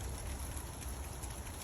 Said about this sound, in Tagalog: pero pumapatak, yelo.